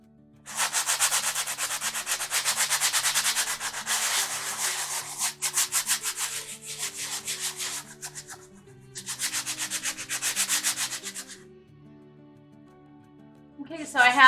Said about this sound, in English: take your sandpaper and go ahead and sand smooth off any of the glitter or wording that's on either of these